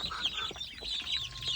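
Olive egger chickens give quiet, brief clucks at a short distance, with faint high chirping from other birds in the pen.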